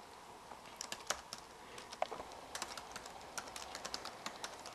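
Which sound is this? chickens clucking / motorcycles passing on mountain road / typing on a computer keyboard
typing on a computer keyboard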